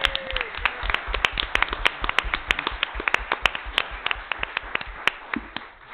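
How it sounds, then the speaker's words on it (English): An audience gives a round of applause, a burst of sharp, uneven claps from a small crowd that rings out close and fairly loud for several seconds before thinning toward the end. "So just a big round of applause for that."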